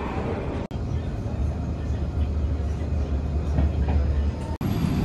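Rumble of an MRT train in a Singapore station on a quiet Monday, a steady low drone with rolling rail noise throughout, briefly cut by two sharp clicks near the start and end.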